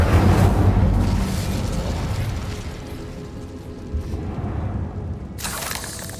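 Fire spell from Hogwarts Legacy erupts with a loud, rushing burst that tapers into a crackling roar, followed by a sharp brighter flare near the end, with no voices.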